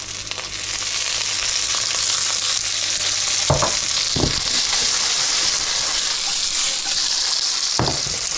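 Chorizo frying in olive oil in a pan, a steady bright sizzle throughout with a few brief stirring or scraping clacks, close and fairly loud, with no talk.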